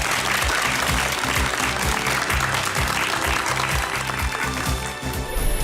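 A seated audience at a televised talk event gives steady, sustained applause to welcome Onoffmix CEO Yang Jun-cheol to the stage, with a low musical backing underneath throughout.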